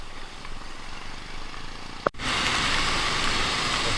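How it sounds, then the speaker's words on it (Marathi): Monsoon rain suddenly begins falling partway through, on a roadside stop along Ghodbunder Road near Thane, turning a quiet background into a steady, dense hiss of rainfall that continues evenly to the end. "पाऊस चालू झालाय."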